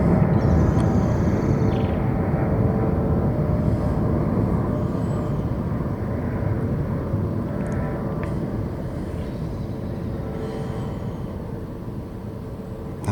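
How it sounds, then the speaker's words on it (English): An airplane taking off, a loud sustained roar of jet engines that slowly fades over several seconds, with a faint high whine on top, no voices. "And another plane taking off."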